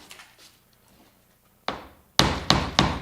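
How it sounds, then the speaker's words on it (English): A hammer knocks on a laminate floor plank during a repair, first a few soft taps, then four sharp, loud hits in quick succession, close by with no talking. "And you take the hammer,"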